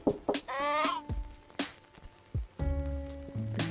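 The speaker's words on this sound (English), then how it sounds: "It sounds like a sheep." Bleating sheep in a detective video game, a few wavering bleats and short animal cries rising in quick succession, close and clear with no talk.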